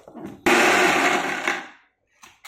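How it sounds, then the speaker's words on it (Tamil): A mixer grinder whirs for about a second and a half, grinding horse gram chutney with salt. The motor noise is loud and close, cuts off abruptly, and is followed by a few faint knocks. "மிக்சியில் போட்டு அரைச்சிடலாங்க"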